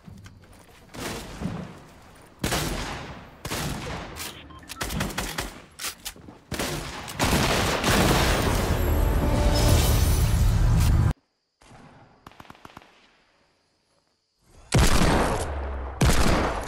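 Rapid bursts of P90 submachine-gun fire in Fortnite rattle out in several loud volleys, broken by short pauses and one near-silent gap before a final heavy burst; no talk is heard.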